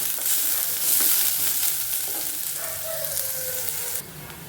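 Chopped onion and small green chilli pieces sizzle in a hot pan as a utensil stirs them with scraping strokes, the frying loud and crackly before easing off near the end.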